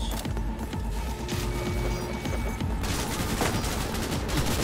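Gunfire rattles through the Cyberpunk 2077 video game in loud, continuous rapid bursts of shots, close and dense from start to finish.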